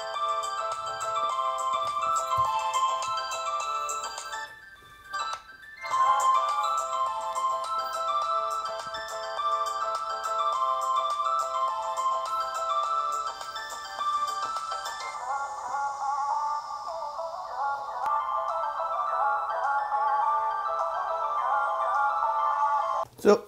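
Music plays from the rear speaker of a Santin Gaami phone: a thin, tinny melodic track heard up close at a fairly quiet level, continuing steadily with a brief dip partway through.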